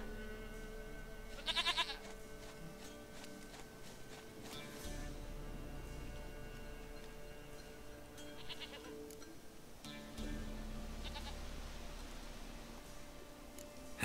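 A goat bleats a few times in a video game, short nasal calls standing out at moderate volume over a quiet, steady ambient background.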